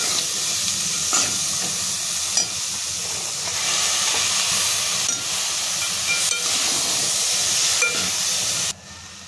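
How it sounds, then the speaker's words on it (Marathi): Washed broad beans (ghevda) stir-fried in a hot pan, a loud continuous hiss and sizzle with periodic stirring scrapes that cuts off sharply just before the end. "आता ह्याच्यामध्ये आपण स्वच्छ धुवून घेतलेला घेवडा टाकून घेऊया आणि परतायचं।"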